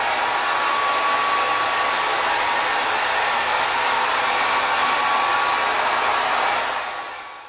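A hair dryer blows steadily during a haircut while hair is dried and waved, a loud continuous whooshing hum that runs alone before easing off near the end.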